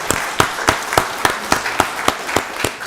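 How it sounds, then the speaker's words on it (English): Applause at a county board of commissioners meeting, with rhythmic clapping in steady, evenly spaced beats at close range. The beats sound a few times per second for about three seconds. "So give the Executive Director another round of applause"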